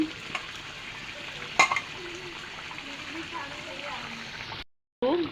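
Koi fish curry sizzles in a pan with chopped green chilies, a steady frying hiss broken by a sharp clatter and light stirring knocks, before the sound cuts out briefly near the end.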